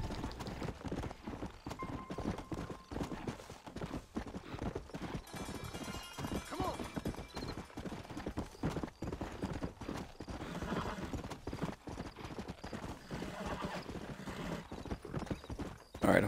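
Steady clip-clop of horse hooves with occasional neighs in the Western game Red Dead Redemption, continuous and moderately close, partly under someone talking.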